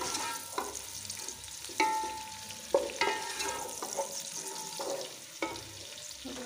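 Onions frying in a pan for a Punjabi kadhi pakora, cooked until light golden brown: a steady sizzle with repeated stirring clatters and scrapes, fairly close, with no voices.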